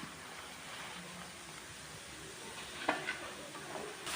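Kara sev dough frying in hot oil while being stirred, giving a soft steady sizzle and bubbling with a couple of faint scraping stirs, quiet and with no talking.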